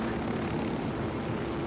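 A helicopter in the video game Ghost Recon Wildlands, set in Bolivia, gives a steady, loud rotor and engine drone that runs continuously with no talk over it.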